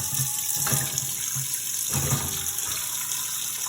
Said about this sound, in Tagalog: lagyan na natin sa pot na may tubig